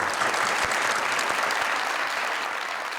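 A studio audience gives a winner a warm burst of applause, dense continuous clapping near and loud for the full length, with no talk over it.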